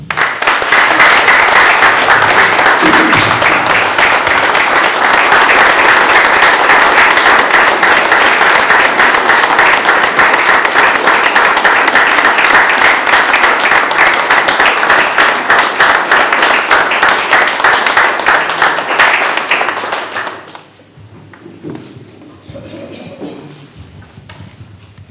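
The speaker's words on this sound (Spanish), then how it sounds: "sería bueno aplaudir su memoria" An audience at a political round-table meeting in Las Piedras applauds in memory of a comrade: loud, dense, sustained clapping for about twenty seconds that stops abruptly, leaving a quieter room with faint shuffling and murmurs.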